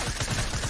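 A combat shotgun firing in the video game Fortnite, a quick series of punchy blasts in close succession, loud and dense, with no speech.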